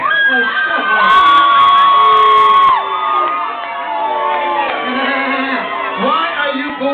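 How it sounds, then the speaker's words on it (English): A crowd booing and shouting, loud and close, in a sustained wave that eases slightly midway and then continues. "Why are you booing because I'm from Texas?"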